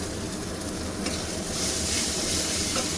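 Tomato, ginger-garlic paste and yogurt stirred in a hot pan, a steady close sizzle with soft scraping swirls of a spoon and a brief louder hiss partway through, no talking.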